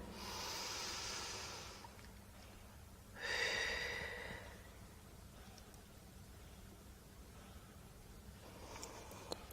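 Two soft, airy breaths during a kneeling Pilates exercise: a longer exhale first, then a sharper inhale through the nose a few seconds later, with near silence between them.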